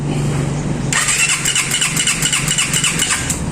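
A motorcycle engine is kick-started: a close mechanical clatter, then after about a second the engine catches and runs loud with a steady, pulsing idle.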